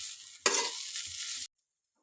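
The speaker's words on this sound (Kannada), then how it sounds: "ಅಷ್ಟೊತ್ತಿಗೆ ಇಲ್ಲಿ ಫ್ರೈ ಆಗಿದ್ದಾವೆ ಚೆನ್ನಾಗಿ ಹಾಗಲಕಾಯಿ ಸ್ವಲ್ಪ ಎಣ್ಣೆ ಸ್ವಲ್ಪ ಜಾಸ್ತಿ ಹಾಕಿ" Bitter gourd pieces fry in plenty of oil while being stirred: a bright, hissing sizzle bursts up at a stir, holds steadily for about a second under faint scraping, then cuts off abruptly into silence.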